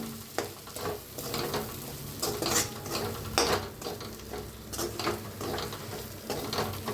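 Spice powders, coriander and turmeric, roast in a lightly oiled pan while a spoon stirs and scrapes repeatedly, close crackling sizzle with rhythmic scraping strokes.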